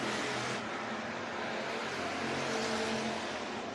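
Hobby stock race cars at Worthington Speedway drone through the turns, a steady mid-distance engine roar with a slight swell, no voices over it.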